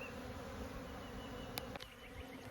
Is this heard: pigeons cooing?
no